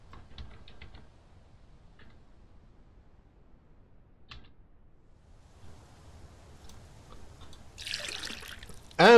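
A water container is filled in Mist Survival, with a brief trickling, splashing gush rising near the end after quiet stretches broken by faint clicks and soft thumps.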